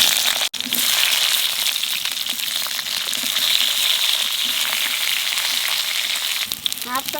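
Eggplant pieces fry in hot oil in a pan, a steady close sizzle running nearly the whole time with a brief dip near the start and a few light stirring clatters toward the end.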